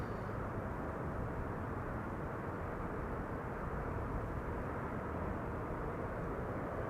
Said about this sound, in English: Lufty A380.